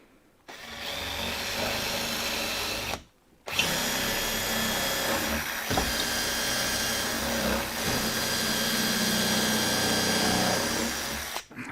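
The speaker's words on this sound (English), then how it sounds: "drill a hole up through here" A power drill bores a hole up through an old piece of furniture being restored, whining loud and steady for a few seconds, stopping briefly, then running on for a long continuous stretch.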